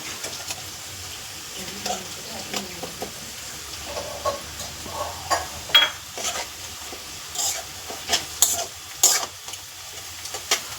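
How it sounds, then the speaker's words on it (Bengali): Bay leaf, dried red chili, cloves, cardamom and cinnamon crackle in hot oil beside browned onion, a soft steady sizzle broken by scattered pops and light spoon scrapes against the pan. "পেঁয়াজটা আমি ফোড়নে দিয়ে দেবো একটা তেজপাতা একটা শুকনো লঙ্কা লবঙ্গ এলাচ আর দালচিনি"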